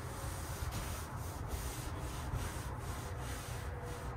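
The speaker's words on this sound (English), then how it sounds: "I'm just giving a light scrub, just enough to move all your stuff I'm trying to move off the board here." Soft, steady scrubbing of a fly-covered board during soft washing, a brush rubbing back and forth in an even rhythm, quiet and close with a constant hiss and no voices.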